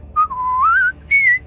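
A person whistles a short melodic phrase up close and clear: a rising, sliding tone with a brief break before one final higher note, no talking.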